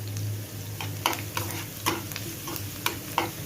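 Crushed garlic fries in oil for spicy village-style karale (niger seed) chutney, an even sizzle punctuated by about eight crisp spatula scrapes at a steady pace, close by and without speech.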